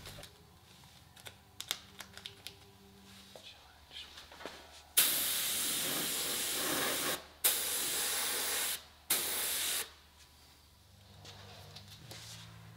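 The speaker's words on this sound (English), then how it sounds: "And that is when finally the clear coat can go on." A spray gun applying clear coat during rust repair on a 1986 Porsche Carrera: light clicks and taps, then three long, loud, steady hissing bursts separated by brief pauses, close by.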